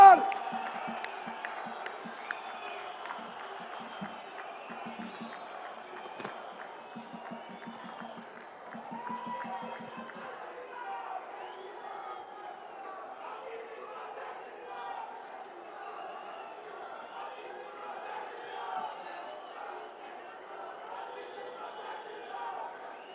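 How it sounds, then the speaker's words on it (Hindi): A crowd at a public rally with the Prime Minister in Udhampur, Jammu and Kashmir applauds and cheers, a sustained wash of clapping and shouts mixed with voices, moderately loud throughout. "जोरदार तालियों से"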